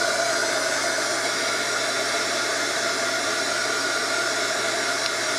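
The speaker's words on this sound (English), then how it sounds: "Hopefully the heat gun won't get so hot that it melts it" A heat gun blows steadily over a nylon screen, a loud, even rushing hiss of hot air that holds constant throughout without a break.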